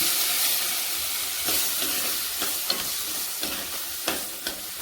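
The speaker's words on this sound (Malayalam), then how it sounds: "നല്ലതുപോലെ ഇളക്കാം." Green chillies and tomato frying in a pan with a steady sizzle and hiss, while a spoon stirs with scraping taps at irregular intervals, close up and without speech.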